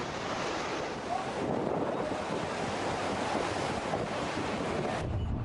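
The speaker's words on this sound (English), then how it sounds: "The seafront at Dahab in Sinai, Egypt was engulfed by huge waves," Huge waves crash and surge along the seafront at Dahab in Sinai, Egypt, a continuous loud roar of surf mixed with heavy wind buffeting the microphone.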